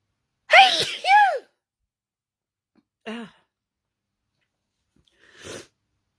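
Mid sneezing fit, a person lets out a loud close double sneeze, then a smaller sneeze-like burst and a later soft exhale or snort in otherwise silent surroundings.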